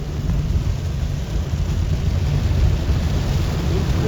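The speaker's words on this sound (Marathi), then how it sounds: "आता जरा जास्तच पाऊस पडायला लागलाय" Heavy monsoon rain pours onto a car during a drive to Trimbakeshwar, a dense, loud and unbroken roar of drumming water that holds steady throughout with a low rumble beneath.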